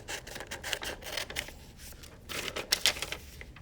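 Scissors snip through paper along marked lines in a few quick, crisp cutting bursts, close and fairly quiet, with short pauses between strokes and no talking.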